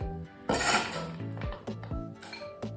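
A knife blade scrapes and clinks against a container as chopped chocolate is pushed into it, with several sharp metallic scrapes and taps up close.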